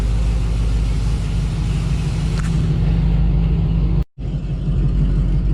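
An LS3 V8 engine in a twin-turbo Camaro build runs with a loud, close, throaty rumble, holding steady before cutting off abruptly near the end and then resuming.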